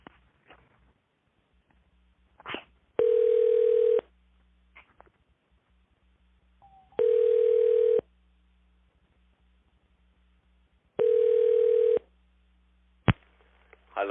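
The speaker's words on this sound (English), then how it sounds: "There may be a silence while your call is transferred." A hotel phone line rings while a call is being transferred. Three evenly spaced electronic ring tones, each about a second long, sound with quiet gaps between them.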